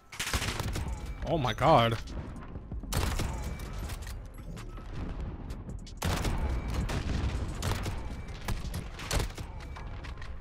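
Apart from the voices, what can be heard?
sniper rifle gunshots in Call of Duty: Modern Warfare video game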